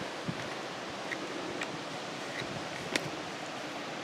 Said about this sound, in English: it's freaking windy, dude. Got like some hurricane winds going.